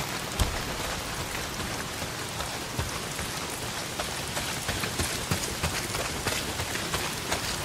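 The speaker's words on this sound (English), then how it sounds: "Well, not if it's pissing down rain." Steady heavy rain pours down in the video game Days Gone, a dense, continuous hiss with scattered droplet taps throughout, loud and unbroken with no voices.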